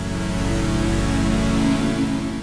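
A sustained, dense synth tone with a thick low drone from an Arturia PolyBrute 12 slowly morphs its timbre between two patches over a couple of seconds, one texture blending into another without a break.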